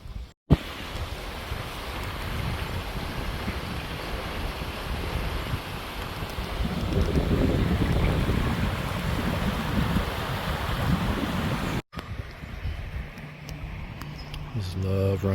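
Outdoors in Ireland, running water rushes in a steady, broad wash, loud and close, with wind buffeting the microphone and a brief break near the end.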